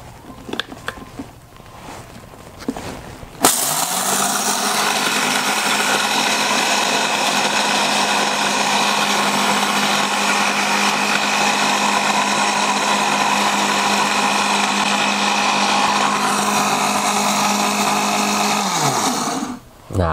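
A kitchen blender grinds coffee beans in a loud, steady whir that starts abruptly after a few seconds of faint talk and runs unbroken for about sixteen seconds before cutting off.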